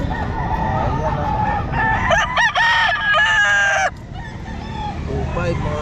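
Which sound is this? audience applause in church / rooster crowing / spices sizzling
rooster crowing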